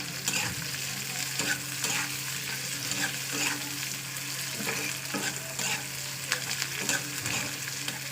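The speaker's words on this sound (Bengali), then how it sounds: "এবার এটাকে না ভাজা করতে করতে ব্রাউন কালার নিতে হবে" Cumin and chili fry in oil in a pan over a gas flame until browned, for a lote fish paturi dish: a steady, moderate sizzle with scattered stirring clicks and no talking.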